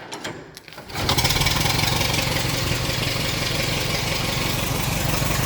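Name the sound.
Ford Model T engine starting on magneto, hand cranked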